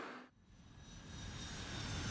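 A steady, continuous airplane engine roar, broad and fairly quiet, swelling slightly as it passes at a distance with no voices.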